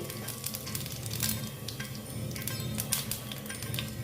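Dry red chilli, bay leaf and whole cumin seeds sizzle in hot oil for a chayote squash curry, a close, steady crackling fry with fine spitting pops and no talking.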